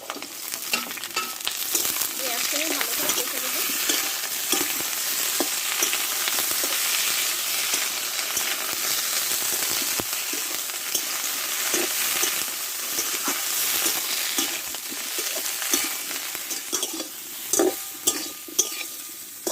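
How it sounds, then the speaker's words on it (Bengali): Potato, ridge gourd and pumpkin pieces sautéed in oil in a pan give a continuous loud sizzle with frequent spatula scrapes and stirring clatter throughout, with no talking. "এখন সবজিটা সবগুলো আমি ভালোভাবে কষে নিয়ে নামিয়ে নেব"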